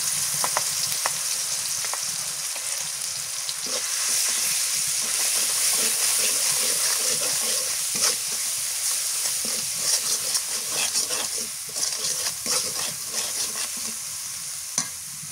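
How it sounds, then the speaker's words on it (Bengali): Fried onion and spices hiss and crackle in a hot pan for about fifteen seconds, a steady close sizzle broken by frequent clinks and scrapes of a stirring spoon, with no talk. "পেঁয়াজ ভাজা হয়ে গেছে, এই জায়গায় সব মশলা আমি অ্যাড করে নিয়েছি"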